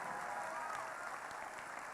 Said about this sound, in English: let's have a round of applause for the mentors and coaches and all that they do